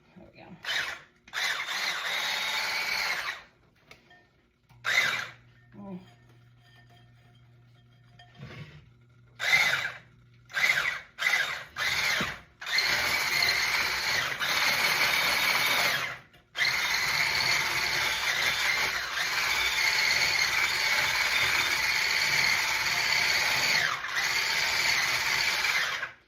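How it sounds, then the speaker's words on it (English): An electric whisk buzzes through a chocolate mixture in a bowl, starting in short bursts and then running steadily at a high whir. A person talks briefly between the bursts. "And we're gonna whisk this up."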